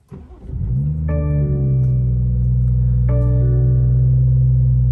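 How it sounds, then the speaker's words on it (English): A manual-transmission car engine cranks briefly via push-button start with the clutch pressed, catches and settles into a steady idle, with a couple of small surges as it stabilizes. "put your foot on the clutch, go ahead and press the start button"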